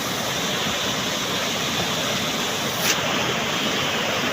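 Loud, steady rush of heavy floodwater flowing down from mountains in Laos, a broad continuous roar like a torrent, with no talking.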